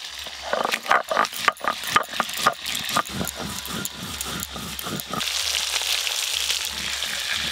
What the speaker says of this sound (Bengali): এই মাছটা ভাজতে ভাজতে না প্রচুর প্রচুর তেল চিটকায়